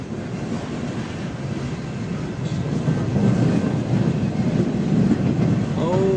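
Long freight train with container and chassis cars passing, a loud continuous rumble and rattle of wheels that swells toward the end, without talk.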